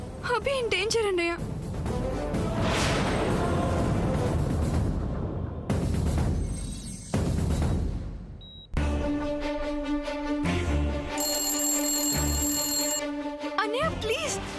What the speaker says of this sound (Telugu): ఫోన్ అటెండ్ చేయి అన్నయ్య